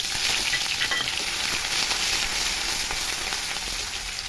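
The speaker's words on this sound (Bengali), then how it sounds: "ওই তেলেই আদা ফোড়ন দিয়ে দেবো" Ginger and five-spice seeds tempering in hot oil for a vegetarian spinach curry, giving a steady, close, dense sizzle and crackle with no voices.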